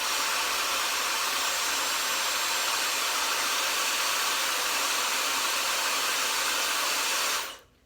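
A hair dryer fitted with a diffuser blows on gel-coated curly hair. It gives a loud, constant whooshing roar for over seven seconds, then switches off abruptly.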